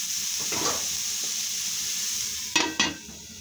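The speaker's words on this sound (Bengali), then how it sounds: "তারপরে দিব কালারের জন্য হলুদ গুঁড়ো, ভালো করে নেড়ে চেড়ে ঢাকা দিব।" Turmeric powder is stirred into a hot frying pan with a steady soft sizzle, a few spoon scrapes and two sharp clinks of utensil on pan near the end, no voices.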